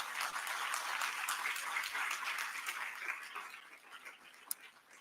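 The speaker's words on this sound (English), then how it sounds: "Please give yourselves a great round of applause for being part of this incredible moment." A hackathon kick-off crowd gives a round of applause, many hands clapping densely at first, then gradually thinning and fading toward the end with a few scattered late claps.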